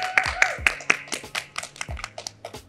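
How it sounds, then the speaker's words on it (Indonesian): A small audience claps for Sean, a quick run of sharp, fairly close hand claps that thins out over a few seconds with no voices over it. "Berikan tepuk tangan dulu dong untuk Sean."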